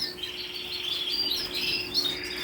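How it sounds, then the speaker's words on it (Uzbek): Several birds chirp and tweet in quick, high bright notes, close by and fairly faint, with a steady low hum underneath. "Qushlar hammasi."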